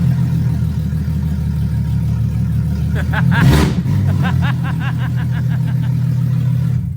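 A BMW M6 V10 engine roars steadily close by, climbing into a sharp rev burst midway, then settling into rapid throttle blips over a constant low rumble.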